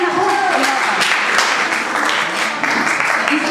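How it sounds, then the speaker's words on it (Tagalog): A live audience in a Filipino performance setting gives a loud, steady round of applause, dense and continuous from start to finish, with a voice briefly heard over the clapping. "Palakpak muna natin."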